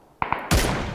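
Gunfire in PUBG: two quick, close shots ring out, followed by a louder, heavier blast that booms and decays slowly, with no talking over it.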